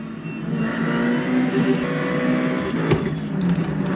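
A Ferrari race car in a racing video game revs continuously, a strong, even engine whine with slight pitch shifts and no voices over it.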